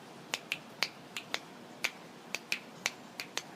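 A four-against-three polyrhythm drumming exercise tapped out as sharp, light, snapping clicks in an interlocking uneven pattern, faint and close, with no other sound.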